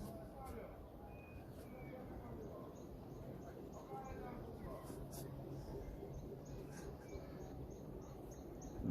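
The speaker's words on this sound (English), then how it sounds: "You hear the birds singing" Birds chirping and singing outdoors in The Gambia, scattered faint calls and tweets at a distance over a soft, steady background hum.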